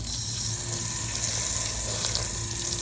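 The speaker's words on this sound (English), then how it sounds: "let's go ahead and give another rinse of it" A Shark Duo Clean vacuum cleaner's foam sponge is rinsed under a running tap, giving a steady, close, even rush of water with no break for the whole stretch.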